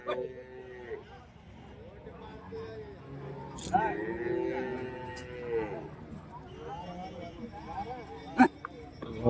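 Cattle moo repeatedly at a busy outdoor cattle market in Karimangalam, India, with several lowing calls over a steady background murmur of people talking and occasional clatter.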